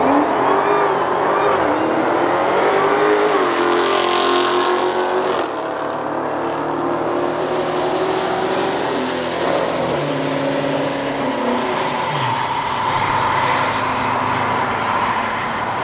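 A Dodge Hellcat accelerates hard on a run, its engine roaring loud and close with the pitch climbing through the revs and a brief dip around a gear change before building again.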